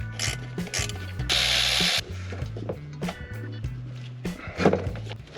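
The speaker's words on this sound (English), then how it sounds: "I'm taking them off with a 10 millimeter. And this time I do have my ratcheting wrenches" A ratcheting wrench turning a 10 mm nut on a BMW X5 4.8i engine during alternator replacement, producing loud, close, repeated clicking ratchet sweeps in several strokes with brief pauses between.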